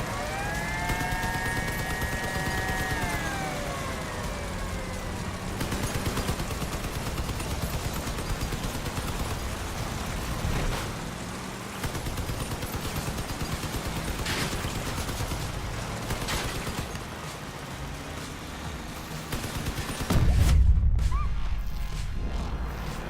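Shotgun blasts in the Crossout vehicle combat game, repeated sharp shots over a constant engine drone and battle noise, ending in a heavy crash, no voices.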